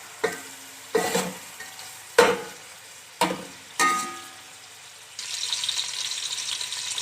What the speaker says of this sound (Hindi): मैं ऑयल में बनाऊंगी, आप अगर घी में बनाना चाहते हैं तो बना सकते हैं। प्याज को हम गोल्डन ब्राउन करेंगे।